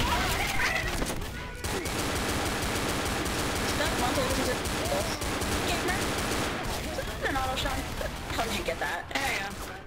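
Dense, continuous gunfire from a video game, including pistol shots, fills the whole stretch as a loud, busy barrage with overlapping bursts, and players talk over it.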